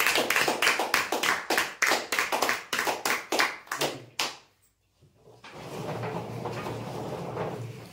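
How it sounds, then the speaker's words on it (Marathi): An audience claps for lucky draw winners in a run of rapid, loud, rhythmic bursts that stop abruptly, followed by a short silence and then a steady hum of room noise. "जोरदार टाळ्या होऊ द्या"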